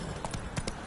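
Horse hooves clip-clop in a PS4 video game, with four quick, evenly spaced hits over a short moment and a steady background bed.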